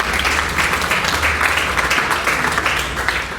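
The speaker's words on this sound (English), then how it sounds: "And yes, you can applaud that." Crowd applause during a political campaign speech in Florida's District 26, a loud continuous wash of clapping filling the room with no clear voice over it.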